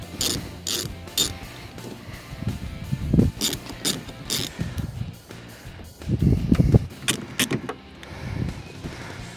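A ratchet turning a T30 Torx bolt on the door latch of a 2012 Nissan Titan truck, with repeated close clicking bursts of ratcheting and pauses between strokes.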